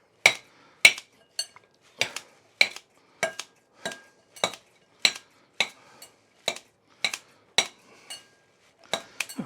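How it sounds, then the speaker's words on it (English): Regular crisp snips from scissors cutting watercress, about a dozen in a steady rhythm, close and sharp against a quiet background. "just going to quickly snip this down a little bit"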